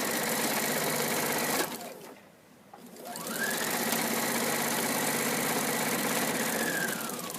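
Sewing machine stitching in a zipper, running steadily and close, pausing briefly for a couple of seconds, then whirring on at an even speed to the end.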